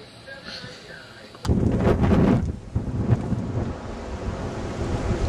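Strong blizzard wind suddenly buffets the microphone with a loud, roaring rush that stays heavy and gusty throughout, no voices heard.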